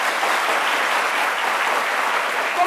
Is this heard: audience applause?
yes